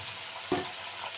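Mixed vegetables with turmeric and salt sizzle softly in a pan, with a single brief scrape of stirring at the midpoint over a steady low frying hiss.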